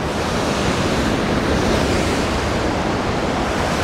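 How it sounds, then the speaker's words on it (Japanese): Ocean surf crashing against the rocky shore of the rugged Arasaki coast on the Miura Peninsula, a dense continuous roar of breaking waves with wind noise, loud and close, with no talk. "こう波がザザーンとなって、なかなかいい景色です"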